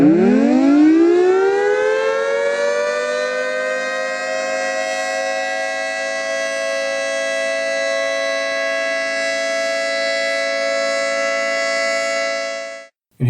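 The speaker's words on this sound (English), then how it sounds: "Here's the sound of a 2T22B working properly." A properly working 2T22B civil defense siren winds up quickly from a low growl into a loud, steady chord-like wail that holds for around twelve seconds before stopping abruptly.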